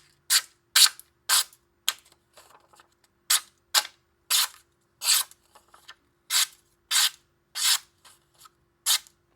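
A Kizer Tycho fixed-blade knife with a tall flat grind slices repeatedly, each crisp stroke short and bright, coming in an irregular series of close swipes with nothing else audible.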